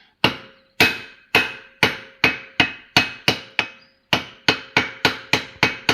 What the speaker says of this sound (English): now I'm going to tap the magnet with a copper hammer.